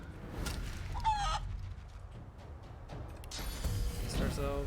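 An enemy turned into a chicken in a video game gives a clucking, crowing squawk amid busy game noise, with another burst of cackling near the end.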